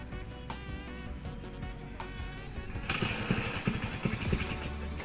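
A Vespa scooter engine idles with a steady buzzing hum, then is revved harder into a louder, rougher, sputtering roar up close.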